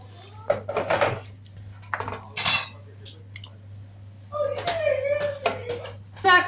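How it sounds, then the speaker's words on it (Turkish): Metal utensils scrape and clink against a pot of cumin and pepper soup in several bursts, with a voice talking intermittently over the kitchen clatter. "Ve şimdi yine karıştırıyoruz."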